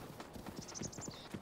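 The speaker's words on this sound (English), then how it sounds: "Where are you, horse? Come here, horse." Horse hooves clip-clop in Zelda: Breath of the Wild, a quick run of soft, close hoofbeats over a bright tonal chime in the game's sound.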